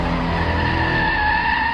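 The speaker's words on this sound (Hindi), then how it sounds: "सोहम ने अचानक से ब्रेक लगाई" A car brakes suddenly on the Mumbai–Pune highway, a loud sustained tire screech with steady tonal squeal over engine rumble, close and continuous with no talking.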